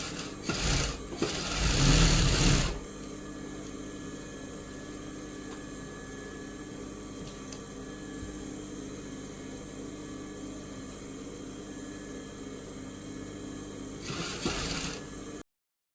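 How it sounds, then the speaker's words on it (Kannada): A sewing machine stitches a blouse in short bursts of whirring at the start and end, with a quiet steady background hum between, close and without talk. "1/4 ಇಂಚಿನಷ್ಟು ಬಿಟ್ಟು ಆ ಕಡೆಗೆ ನಾನು ಸ್ಟಿಚ್ ಮಾಡ್ತಾ ಇದ್ದೀನಿ"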